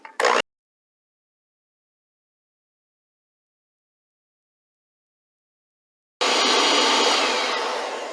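An electric mixer beating ginger cookie dough with molasses and spices gives a short whirring burst at the start, falls silent, then runs as a steady, loud motor whir toward the end.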